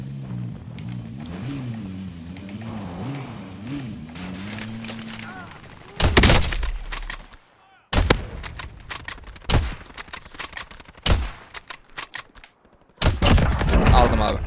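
Bursts of gunfire from Call of Duty Warzone with a Kilo and Kar98 loadout: talk first, then several loud, sharp volleys separated by short gaps, close and dominant.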